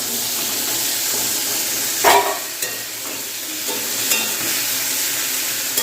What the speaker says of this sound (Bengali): একটু আলু এদিকে ভাজা হচ্ছে